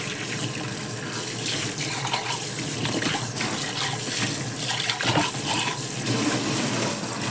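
Kitchen tap runs steadily into a sink during dishwashing, a loud continuous splashing gush with small clatters of dishes underneath and no speech.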